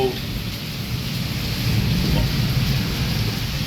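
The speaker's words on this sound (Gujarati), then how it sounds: "નોન સ્ટોપ વીજળી થાય છે એના જે અવાજ આવે છે અને વરસાદ ચાલુ છે પવન ચાલુ છે" Heavy rain and wind during a thunderstorm in Wankaner, a steady dense wash of rainfall with a low rumbling undertone throughout, fairly loud and unbroken.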